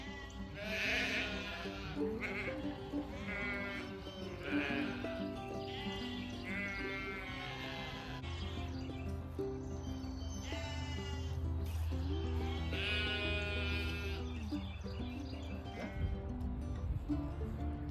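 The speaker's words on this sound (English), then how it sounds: "the sheep are in the yard," Sheep bleat repeatedly and loudly, several animals calling over one another in a steady, crowded chorus with no pauses.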